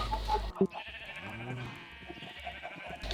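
Sheep in the video game Minecraft bleat in short, wavering calls, several in a row, alone without talk.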